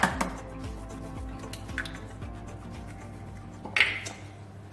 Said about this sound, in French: moi, je mélange avec une spatule en bois